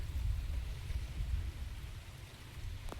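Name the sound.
heavy rain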